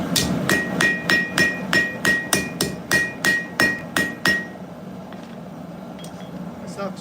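A hammer strikes hot steel on an anvil while forging a steak flipper, about a dozen sharp ringing blows in a steady rhythm, followed by quiet.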